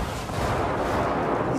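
A grenade blast in the video game Ghost Recon Wildlands gives a loud, sustained rumbling roar that fills the whole short stretch with no pause.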